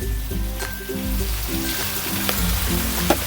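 Fish-oil masala seasoned with Kashmiri chilli and salt sizzling in a pan over medium heat, a continuous frying hiss broken by a few sharp spatula scrapes and clicks, alone without speech.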